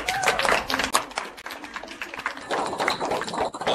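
Cheering and clapping from an outdoor crowd at Lime Kiln Point State Park, a dense wash of claps and shouts holding steady at moderate volume for several seconds.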